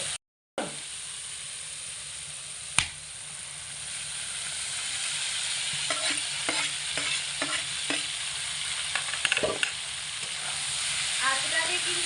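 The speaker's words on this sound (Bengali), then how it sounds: "এইভাবে অনবরত নাড়াচাড়া করে ভ্যাটকলের মধ্যে মশলা খুব ভালো করে মিশিয়ে নেব" Boiled ghetkol (giant taro stems) stirred into a soft frying masala over medium heat in a pan, with a steady sizzle and a series of scraping spoon strokes through the mixture, close and clear with no talk.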